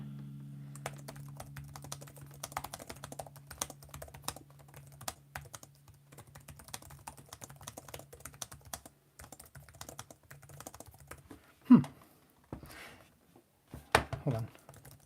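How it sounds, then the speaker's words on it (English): Rapid, continuous clicking of typing on an MSI OLED 14-inch laptop keyboard, close and crisp, with a low hum early on and a few louder thumps and rustles near the end. "So we'll do the MSI keyboard first. I'll just type a little essay here."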